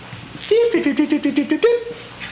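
A voice sings a rising and falling sequence of about eight steady tones, imitating the tones heard in the background of an old telephone call, alone and close.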